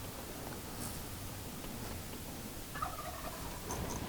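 A wild turkey gobbles at a distance, a short rattling call over a steady hiss of outdoor background noise.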